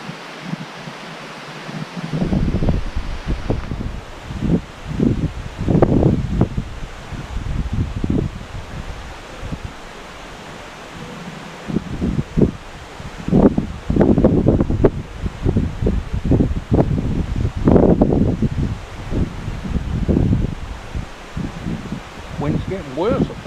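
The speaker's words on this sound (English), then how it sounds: "Wind's getting worse, I think, not less." Gusty wind roars and rustles through leaves beside a channel, rising and falling in loud blustery surges with rumbling buffets against the microphone.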